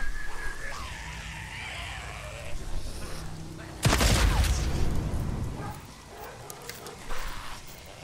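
A sudden loud gunshot blast in the video game Days Gone bursts out mid-clip and rings off, with fainter shots and muffled voices around it.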